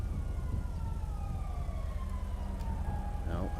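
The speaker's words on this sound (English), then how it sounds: "No, I hear sirens." Police sirens in a roleplay video game wail in long, falling sweeps at a moderate distance over a constant low engine rumble, with a rising siren tone near the end.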